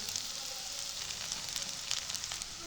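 White sesame seeds hit a pan of frying garlic and onion, raising a constant, moderately loud sizzle with light crackles and pops scattered through it.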